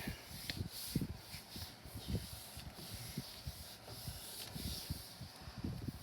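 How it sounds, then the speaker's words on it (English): Glossy magazine paper rubbed firmly onto a Gelli printing plate: continuous close scratchy rubbing in uneven back-and-forth strokes, soft but steady, with no voices. "So I'm really going to rub this down good so I can get that design"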